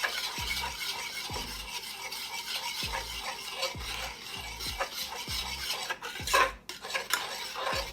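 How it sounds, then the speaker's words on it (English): Utensil stirring blueberry barbecue rib sauce with melted jam in a pot, a repeated rhythmic scraping and rubbing about once per half-second, close and fairly quiet, with a sharper clatter near the end. "consistently mixing it every time you add in an ingredient so that nothing clumps up and everything gets nicely mixed"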